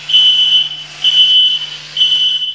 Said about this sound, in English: The smoke detectors go off